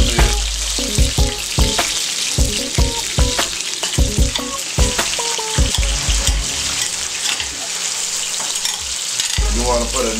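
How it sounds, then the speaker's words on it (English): Food sauteing in grease in a pan for a stuffed chicken meal, a steady close sizzle broken by repeated scraping and stirring knocks. "So what you want to do, you want to just saute this a little bit."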